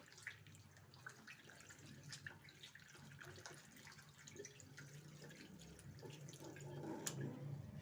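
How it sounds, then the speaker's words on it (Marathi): Hands are washed under a running tap after lathering homemade paper soap, giving a steady, soft splash of water with small drips and shifts as the hands move through the stream. "आता मी हात धुवून घेते।"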